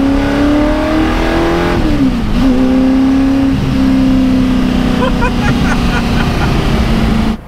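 A 1960s race-bred supercar engine revving loudly and close, with rising and falling pitch sweeps as the throttle opens and eases, continuous and unbroken to the end.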